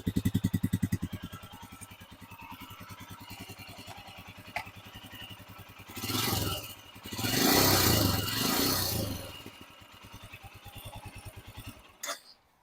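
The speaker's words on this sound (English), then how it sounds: "Let's start it up so you can hear what it sounds like." A Royal Enfield Himalayan motorcycle idles with a steady, low, thumping single-cylinder beat, broken by a couple of brief throttle blips in the middle before the pulsing resumes and then cuts off.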